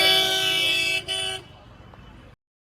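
Car horns honking in a traffic jam backed up behind a roadside accident, a loud sustained blare that breaks briefly, resumes, then cuts off, leaving faint road noise before silence.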